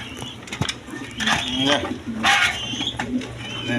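Black Rasgolla satin pigeons cooing at a seller's stall, soft repeated throaty coos close by, mixed with someone talking and light clinks in the background.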